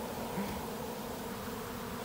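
A honey bee swarm landing on a box, a dense, steady buzzing of many insects, close and continuous.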